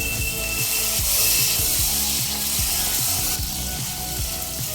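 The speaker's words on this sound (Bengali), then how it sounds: "অল্প সামান্য একটু জল দেবো এক টেবিল চামচ মতো দিয়ে মশলাটাকে খুব সুন্দরভাবে কষিয়ে নেব" Spice paste with Kashmiri red chilli powder and a splash of water is stirred and fried in a pan for a fish roe curry. Steady rhythmic scraping and rubbing strokes run throughout, close and fairly loud, with no talking.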